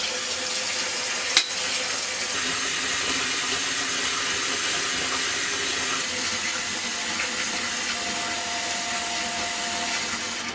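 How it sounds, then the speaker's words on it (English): Hot water runs continuously from a tap, filling a sink with a steady rushing hiss, close and even in level, with a single sharp knock early on. "That's definitely not enough hot water, so I'm gonna fill it with some more."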